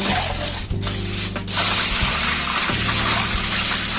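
Water is poured and trickles into a cooking pot for rice kheer, a steady rushing stream close by with a few brief interruptions in flow.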